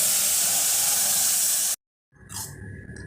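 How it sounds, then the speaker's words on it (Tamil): A loud, steady sizzling hiss of 250 ml of water hitting a hot pan of rice and lentils, then a brief silence, followed by softer bubbling and hissing. "250 ml தண்ணி ஊற்றணும்."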